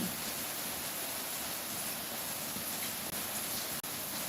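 A soft, even hiss of steady rain fills the air, constant and gentle with no voices.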